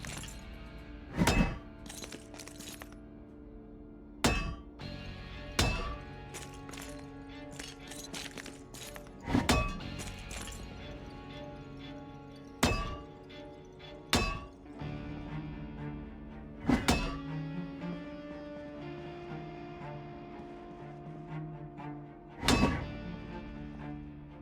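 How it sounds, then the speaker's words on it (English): A sledgehammer smashing through obstacles in the survival game Project Zomboid, heavy thunks and shattering cracks landing at irregular intervals every couple of seconds against a quiet droning background. "Alright, get your sledgehammer out."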